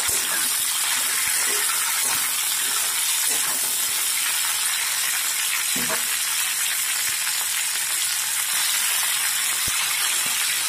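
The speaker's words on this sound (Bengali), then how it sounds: "এবার সবজিগুলোকে খুব ভালোভাবে তেলে নেড়ে নেব।" Mixed vegetables frying in hot oil, stirred in a pan, give a steady dense sizzle throughout with scattered scraping clicks from the stirring, close and fairly loud, with no talking.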